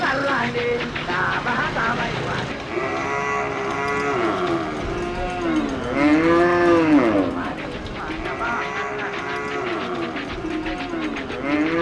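Cattle kept as farm livestock moo repeatedly across the clip, several long lowing calls overlapping at close range, with an engine-like drone in the background.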